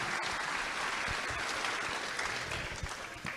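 Loud, dense applause from a church congregation greeting a priest before his teaching, steady clapping filling the whole stretch without a break and tapering only slightly at the end.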